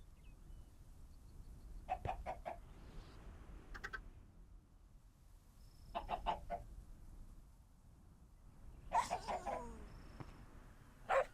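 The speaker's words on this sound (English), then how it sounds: "Let's get some more chickens." Chickens in a survival video game cluck in a few separate short bursts over quiet, faint background ambience, with no voices.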